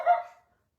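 A dog penned indoors lets out one short, sharp bark close by. It fades quickly into silence.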